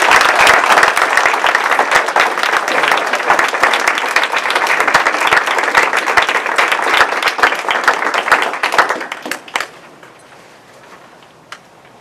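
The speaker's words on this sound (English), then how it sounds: "Let's give the contestants another round of applause." An audience at a Toastmasters state speech contest applauds the contestants with loud, dense clapping from a full room, sustained for several seconds before thinning into a few scattered claps and fading away.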